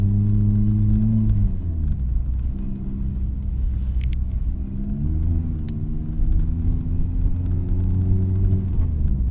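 A Mazda MX-5 Miata ND3 on winter tires pulls away from a stop on snow and slush, with traction control engaged: a steady, loud engine drone rising and shifting in pitch through the whole stretch, heard from inside the car without talk.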